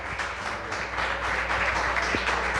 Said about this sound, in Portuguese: Adora o Senhor com suas palmas.